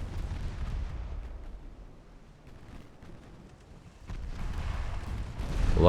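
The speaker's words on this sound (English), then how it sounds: "Lucky that torpedo detonated there" A torpedo detonates in a 1954 naval warfare strategy game, a deep rumbling blast that swells and fades, then a second loud boom builds near the end amid continuous low battle noise.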